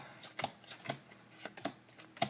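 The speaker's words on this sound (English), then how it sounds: "I'm going to go ahead and deal down all the cards into 3 separate" Playing cards are dealt from a deck into three piles, making a few soft, quiet slaps and flicks at uneven intervals.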